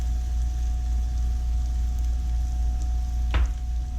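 Vegetables sweating with salt and pepper in a pot of soup, giving a soft, steady sizzle under a low hum, with a brief scrape of a spoon near the end.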